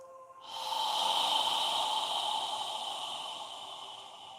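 Slow, controlled breathing during a yoga session: one long, steady breathy exhale begins after a brief quiet start and holds evenly for about four seconds, close and soft, with no talking.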